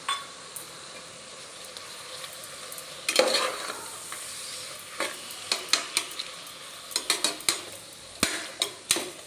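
Mutton frying in a village-style pan with ginger garlic paste, pepper and cumin, stirred with a steady sizzle and repeated metal scrapes and clinks that grow busier toward the end, with no talk.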